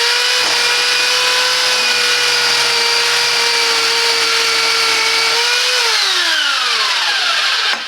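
Parkside PSTD 800 E4 jigsaw with an 800 watt motor runs steadily at a loud, close high-pitched whine for several seconds, then winds down in pitch as it is switched off near the end.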